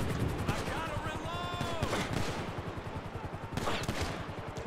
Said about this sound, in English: Yo, who the fuck is shooting me?